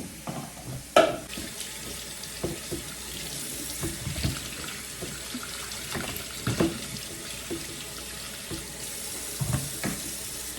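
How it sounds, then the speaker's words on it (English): Tap water runs steadily into a kitchen sink as zucchini are rinsed, a close continuous splashing stream with small knocks and clatters now and then. "I'm just going to give those a wash."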